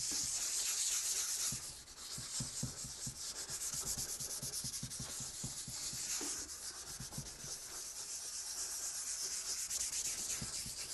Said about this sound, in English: Japanese Camilla oil, tool oil, on the surface, and just with wet and dry 600 grit sandpaper